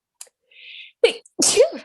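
A single loud, close sneeze with a sharp sucked-in breath first, then an explosive burst, heard alone.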